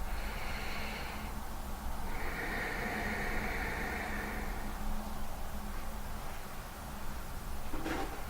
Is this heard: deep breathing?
yes